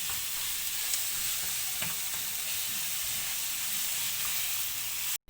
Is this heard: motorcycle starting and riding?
no